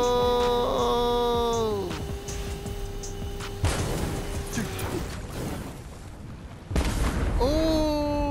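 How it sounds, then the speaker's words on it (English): Explosion in the Fortnite obby game Super Obby World, a loud broadband boom bursting in around four seconds with a second blast near seven seconds, over game music and sound effects. "Oh, slide away from the explosion."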